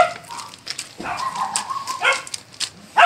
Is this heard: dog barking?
yes